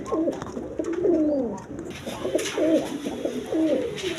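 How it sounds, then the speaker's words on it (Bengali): A pair of Giribaz pigeons coo in repeated low, rolling phrases, close by and fairly loud, with a few breaks between bursts and no talking over them. "এখানে এক পেয়ার গোবিন কবুতর আছে একদম কোয়ালিটি সম্পন্ন কবুতর"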